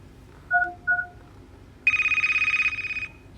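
Cartoonish phone alert tones in a Toca Boca role-play game: two short chirps, then a loud steady pulsing ring that carries on for over a second and stops abruptly, with no talking.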